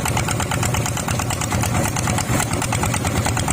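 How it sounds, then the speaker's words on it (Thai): A loud, close tractor engine revs with a steady, rapid chugging throb, rough and continuous throughout, while working very hard soil. "เร่งเครื่องกันแล้วนะ"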